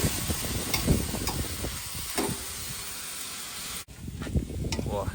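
Chunks of pork belly sizzle and crackle in rendered fat in a pan at an outdoor campsite cooking setup, with stirring clatter and people talking over the frying.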